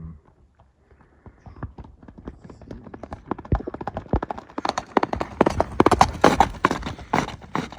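A young horse trots in rhythmic clip-clopping hoofbeats, starting faint and sparse, then growing louder, denser and closer through the second half.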